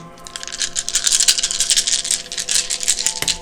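Dice rattle and tumble for about three seconds in a continuous clattering burst, loud and close, with no voices over them.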